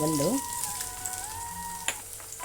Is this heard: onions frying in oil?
yes